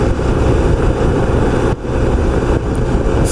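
A 1994 Honda ST1100 motorcycle cruising in sixth gear at about 3,500 rpm on the Long Island Expressway, a loud steady engine drone with heavy wind rush, continuous and close, no talk.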